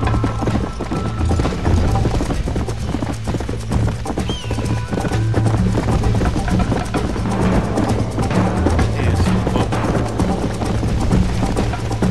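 Horse hooves clip-clop steadily in the Red Dead Redemption video game, with a brief whinny partway through, under a dense layer of game music and ambience.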